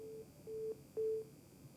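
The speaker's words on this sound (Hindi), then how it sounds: "लगता है फोन कट गया उनका।" A telephone line tone after a call is cut off: two short, identical steady beeps with a brief gap between them, clear over faint background hiss.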